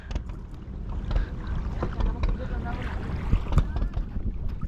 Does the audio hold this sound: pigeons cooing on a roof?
no